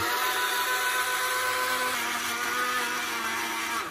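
A kitchen appliance grinds ingredients into flour for homemade Cheetos, giving off a loud, steady, close motor whir that runs unbroken for several seconds and winds down at the end.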